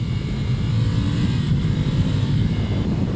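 A 2019 Ducati Scrambler motorcycle engine drones steadily and loudly up close while the bike is flicked side to side through switchbacks, with a low rumble holding constant throughout and no talking.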